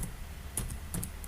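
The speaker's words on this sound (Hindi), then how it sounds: "तो एड्रेस डालते हैं आर्या का, ये है आर्या एंटर" Keys tapped on a computer keyboard while entering an address in Tally ERP 9 accounting software, a few quick close clicks over a quiet room hum with no talking.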